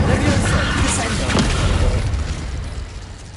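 Spell effects and an explosion in the Hogwarts Legacy video game rumble as a dense, continuous blast and crackle that slowly fades over a few seconds.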